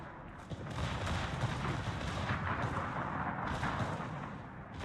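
The battleship Roma fires its guns in World of Warships, a dense rumbling roar of heavy salvos that stays fairly quiet and distant for several seconds.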